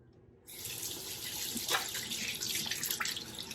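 Tap water runs from a sink faucet as a face is rinsed during a skincare routine. After a brief quiet moment the steady, close rush of water starts and continues to the end, with no talking.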